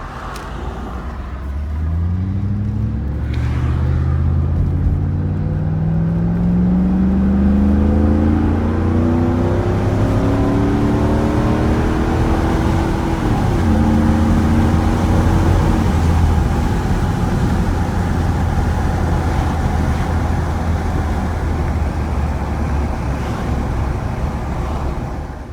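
A 1991 Mercedes 500SL with a high idle drives and makes a U-turn, its engine note rising and falling in smooth revving sweeps over steady road noise, close and continuous.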